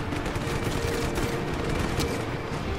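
Enemy gunfire in the Just Cause 3 video game, a dense and continuous crackle of rapid shots that holds at a steady loud level throughout, with no voices heard.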